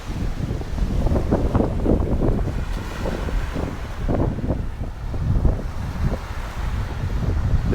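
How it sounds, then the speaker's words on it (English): Ocean surf rolls in at a beach in Akumal, Mexico, with steady wind buffeting the microphone, a continuous rushing wash with gentle surges and no voices. "And there's the ocean."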